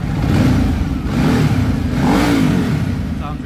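A Ducati Multistrada 1200 motorcycle engine revving in short blips, a loud close mechanical rumble rising and falling two or three times with some clatter.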